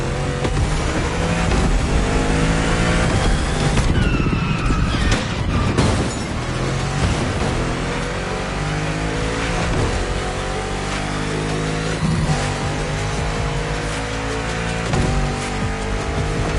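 Video-game supercar engine revving hard while driving, a loud continuous roar with shifting pitch and a couple of sharp bursts early on, no voices.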